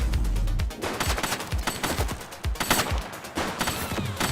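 Gunshots in the video game The Precinct, loud rapid bursts and single cracks in an irregular volley that runs nonstop for several seconds, close and unaccompanied by speech.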